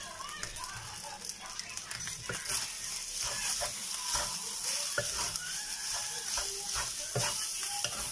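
Garlic fries in a pan until brown while being stirred, a continuous close sizzle with frequent clinking utensil scrapes, as someone talks over it.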